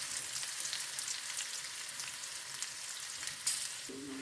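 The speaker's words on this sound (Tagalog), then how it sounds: "lagay ko na ang bawang at saka sibuyas. Hintayin natin na mag-golden brown" Garlic and onion frying in a pan, a soft, even sizzle that stays fairly faint throughout, with a brief click near the end.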